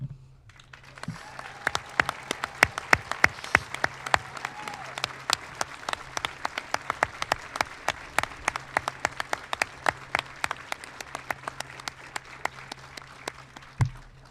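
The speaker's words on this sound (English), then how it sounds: "please rise so the audience can join me in a round of applause to honor" An audience at an Army Best Medic Competition awards ceremony gives sustained applause, a dense crackle of many hands clapping at moderate distance over a low room hum.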